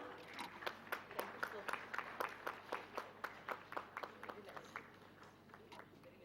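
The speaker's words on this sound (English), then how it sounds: "Please give a big round of applause." An audience at an academic conference session claps for a felicitation, a rhythmic round of applause with distinct individual claps that gradually thins out.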